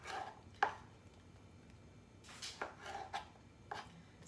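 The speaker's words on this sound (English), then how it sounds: "Let's try and see how it goes with a serrated knife." Serrated knife sawing through tomatoes on a board, several soft, separate cutting strokes and light taps spaced irregularly over a few seconds, quiet and close with no talking.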